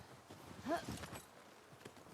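Horse hooves clip-clop at a slow walking pace in The Last of Us Part 2, a few soft, fairly close steps over quiet game ambience, with a brief neigh-like tone near the start.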